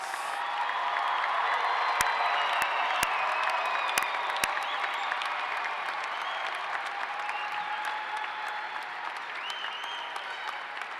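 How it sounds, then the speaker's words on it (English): Sustained applause from the audience at a fall commencement ceremony for the graduates, broad and even throughout, with a few sharp nearby claps and scattered faint cheers in the crowd. "How about a big round of applause for all of our graduates?"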